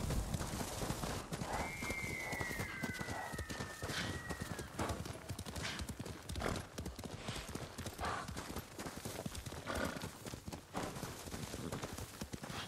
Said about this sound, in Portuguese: Bem que este cavalo aguenta.